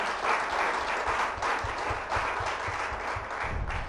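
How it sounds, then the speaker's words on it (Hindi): Loud, steady audience applause fills a spiritual gathering honoring a guest, dense clapping continuing without pause throughout, with only faint traces of voices underneath. "तो ज़ोरदार तालियां फिर से होनी चाहिए वर्दी भाई जी के लिए"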